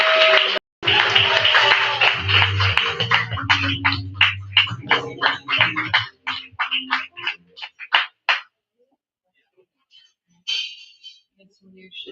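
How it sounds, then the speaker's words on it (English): Open mic crowd bursts into scattered clapping after a poetry act, the claps starting dense and tapering into sparse, separate hand claps with voices talking through the first half. "So let's give a round of applause for Marion, everybody."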